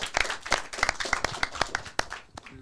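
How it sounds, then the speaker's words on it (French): An audience at a live podcast recording claps for a few seconds, a dense patter of close hand claps that thins slightly toward the end. "On t'applaudit, Maëlys, merci."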